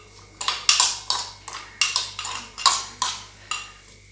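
Salt, chili powder, sugar and oil being mixed into mango pickle with a utensil, giving about ten evenly spaced scraping, clinking strokes against a dish, close and moderately loud, with no talking.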